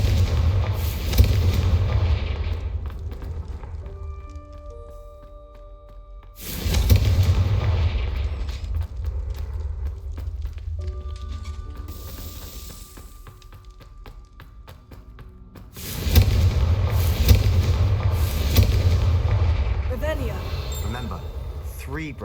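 Confringo fire spell blasts in the video game Hogwarts Legacy, three heavy booming explosions spaced several seconds apart, each rolling out into a long rumble, with a voice speaking between them.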